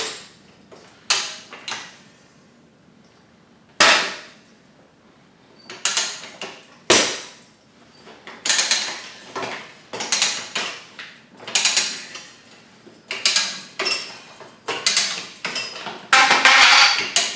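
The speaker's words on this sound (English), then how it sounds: "Like that, we've made it all the way around and our first bead is off." A Rabaconda tire changer works the bead off a dual sport motorcycle rear tire, giving loud, irregular metallic clanks, ratcheting clicks and scrapes up close, several in quick succession toward the end.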